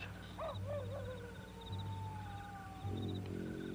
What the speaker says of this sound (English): that's just a coyote